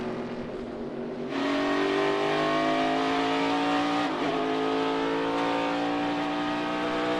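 NASCAR Cup Series race cars roar at full throttle, a steady loud engine drone that jumps up after a quieter opening and holds with rising pitch, dipping briefly as the cars shift or pass.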